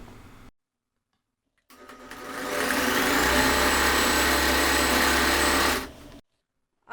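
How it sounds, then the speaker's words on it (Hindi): An electric sewing machine stitches the seat piece of a tulip-style salwar, its motor starting after a short silence and running in a steady, loud, continuous whir for about four seconds before stopping abruptly. "तो सबसे पहले हम आसन को सिलाई कर लेते हैं।"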